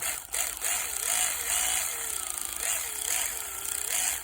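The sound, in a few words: electric ratchet loosening bolts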